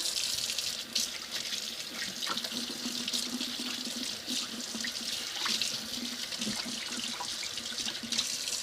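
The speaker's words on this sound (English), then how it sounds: "I just got to wash my hands" Steady running water from a tap splashing into a sink, continuous and fairly close, with a few small clinks and splashes as hands move under the stream.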